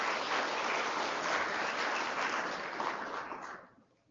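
A crowd claps steadily for a few seconds, the applause dense and even before tapering off quickly at the end.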